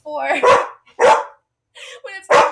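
A pet dog barks four times in close, loud, separated bursts with short silent gaps between them, indoors during a music lesson.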